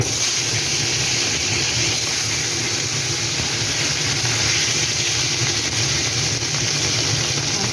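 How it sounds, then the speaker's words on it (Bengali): Pomfret fish frying in hot oil, a steady dense sizzle and hiss holding constant and fairly loud throughout, with no voices. "তেলটা গরম হয়ে গেছে, আমি মাছগুলো দিয়ে দেবো"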